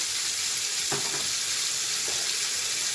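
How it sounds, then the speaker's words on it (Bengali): Potato pieces frying in hot oil with salt and turmeric, a continuous dense sizzle with a couple of brief stirring scrapes partway through, no talking. "তেল দিয়ে দিয়েছি, আমি এবার এর মধ্যে আলুগুলো সব ভেজে নেব"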